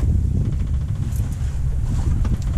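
Strong wind buffets the microphone aboard a sailing boat running downwind, over a constant low rush of water and waves at sea, loud and continuous with no voices.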